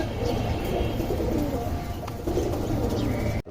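Pigeons, a pair of marshal birds kept at home, coo steadily and close by in a continuous, dense murmur, with a few faint chirps, until the sound cuts off abruptly at the end.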